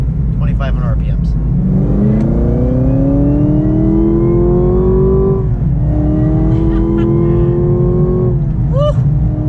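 A Chevrolet Camaro ZL1 pulls hard in second gear, its engine note climbing steadily in two long loud rising sweeps with a brief dip at the shift point, heard close and dominant throughout.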